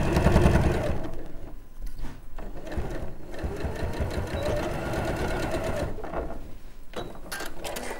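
A sewing machine stitches over the seams of a small quilt block, its needle hammering in a steady rapid rhythm, close and loud, pausing briefly before running again.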